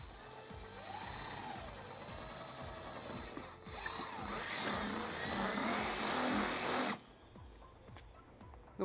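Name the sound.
drilling hole in bumper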